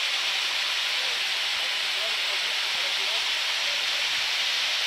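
Small mountain torrent near the Écrins, a steady broadband rush of flowing water with no breaks, close and fairly loud throughout.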